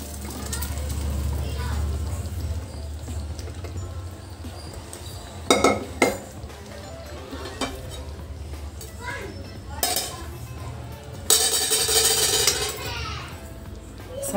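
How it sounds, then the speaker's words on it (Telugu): Pre-cooked field beans tipped with their water into a pan of simmering masala curry, with clinks and scrapes of a spoon and vessel and a pouring splash near the end, under a person talking. "ఇప్పుడు మనం ముందుగా ఉడికించుకున్న అనపకాయలండి, ఈ నీళ్ళతోనే ఇలా వేసి ఉడికించుకుందామండి"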